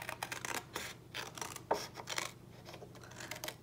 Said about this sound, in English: So we're just gonna cut along the score line here